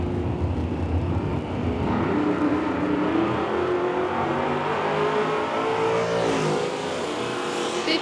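A '55 Chevy in the left lane and a '68 Mustang in the right launch off the line at a nostalgia drag race, engines roaring loud and steady before revving higher as the cars accelerate away.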